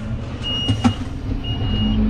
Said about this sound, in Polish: ten pipczak to jest okropny.